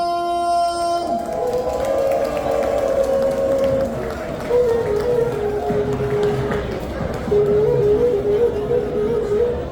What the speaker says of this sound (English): Please, with a round of applause and plenty of noise, make some noise for Sir Dr. Odumah!